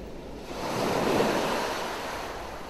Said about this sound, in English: All around you are the sounds of the seagulls and the water, peaceful and rhythmic.